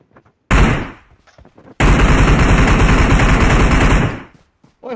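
Automatic gunfire in PUBG, a short loud burst followed by a longer sustained rattling volley of rapid shots lasting a couple of seconds, close and dominant, with a voice briefly at the end.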